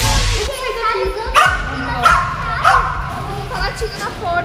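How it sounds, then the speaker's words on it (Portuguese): A dog barks and yips repeatedly at a house door, sharp close barks spaced about every half second with whimpers between, while a person talks over it. "Ele tá latindo na porta."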